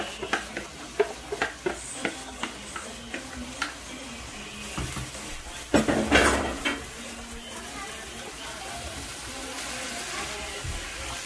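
Steamed bora long beans go into a pan of frying potatoes for a Guyanese vegetarian dish, with a series of sharp spoon-on-pot clacks and stirring over a low sizzle, and a louder burst of scraping midway.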